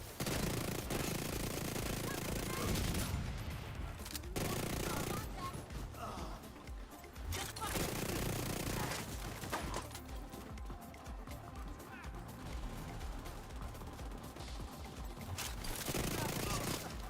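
Assault rifle gunfire in The Division 2, dense bursts of rapid shots in loud stretches broken by brief pauses, close and sustained, with someone talking over parts of it.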